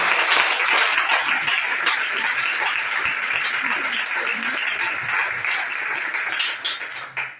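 A church congregation applauds, dense sustained clapping from a crowd filling the room, loud and steady before tapering at the end, with voices mixed in.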